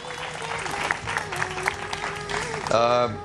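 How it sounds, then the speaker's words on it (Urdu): A studio audience on a Pakistani morning talk show applauds a lawyer guest, steady clapping running under a host's voice, swelling louder near the end. "بہت ساری تالیاں قادر مندوخیل"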